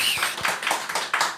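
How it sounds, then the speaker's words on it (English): A handful of people in a studio clapping on cue, a sparse, uneven patter of separate claps close by, fairly faint, with no voices. "Everybody applaud."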